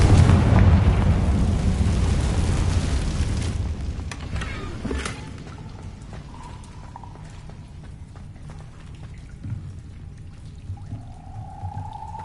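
A Confringo fire-blast spell explodes in the Hogwarts Legacy video game. A loud, close, rumbling blast fades over several seconds and is followed by a sharper thud. Quieter game ambience continues afterward, and no one speaks.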